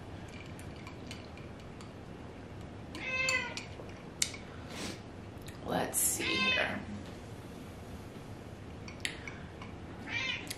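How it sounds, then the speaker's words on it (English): A cat meows several times, close and clear, with a few soft clicks and ticks in between and a person speaking briefly. "I've got a cat in my lap."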